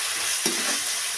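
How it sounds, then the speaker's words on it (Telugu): Ginger garlic paste sizzles and fries with browned onions in a pan during home cooking, with a steady close hiss and a brief stir partway through the short moment. "ఇప్పుడు అల్లం వెల్లుల్లి పేస్ట్ 2 స్పూన్లు అండి అది వేసుకుంటున్నా."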